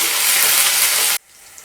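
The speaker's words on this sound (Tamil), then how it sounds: "இது கூட கட் செய்து வச்சிருக்கிற வெங்காயம் கருவேப்பிலை நல்லா வதங்கட்டும்" Sliced onion and curry leaves sauté in hot oil with cumin over medium heat, a loud, close, bright sizzle that cuts off abruptly after about a second, leaving quiet.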